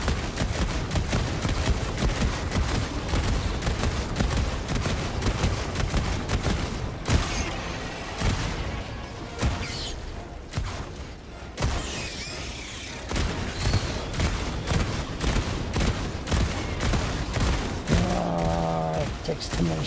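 Heavy automatic gunfire from an Exo-49 Emancipator exosuit fighting bugs and bots in Helldivers 2, a dense, continuous barrage of loud shots with explosions, sustained for most of the stretch with brief lulls.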